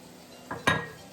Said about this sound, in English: First I'm going to add the carrots